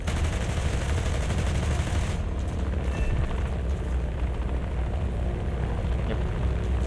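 Machine-gun fire from bomber aircraft turrets in the War Thunder combat game, a dense, loud, continuous rattle of rapid shots mixed with engine roar, sustained without break.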